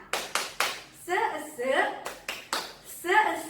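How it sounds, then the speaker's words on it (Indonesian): Children perform the 'tepuk semangat' clapping chant at an Indonesian HKBP Sunday school, with short bursts of claps alternating with chanted voices in a quick, patterned rhythm. "Tepuk semangat."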